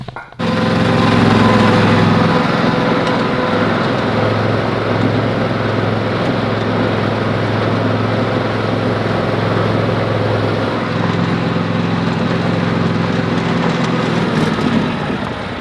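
Small gasoline engine running steadily and loud, close by, a constant droning rumble lasting the whole stretch without talk, starting abruptly at the beginning.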